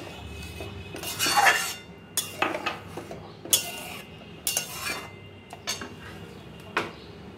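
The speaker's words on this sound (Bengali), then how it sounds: "দুধটা দিয়ে ভালোভাবে নেড়ে দাও" A spoon stirs milk into mug potol in a pot, making a series of clinks and scrapes against the metal in short irregular bursts with pauses between them.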